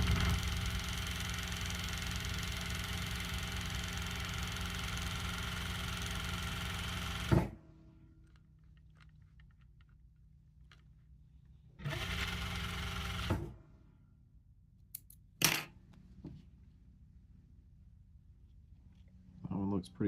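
A Merrow sewing machine stitches the border of a twill patch with a loud, steady motor hum for several seconds. It stops, then runs in one more short burst, followed by a few sharp clicks.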